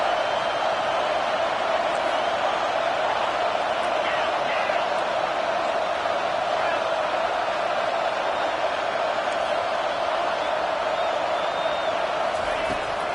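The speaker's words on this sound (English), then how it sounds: "Here comes this home crowd as the defense tries to get off the field on 3rd down" A home crowd at a Nebraska vs Michigan football game roars on third down as the defense tries to get off the field, a steady loud wall of noise with a commentator talking over it.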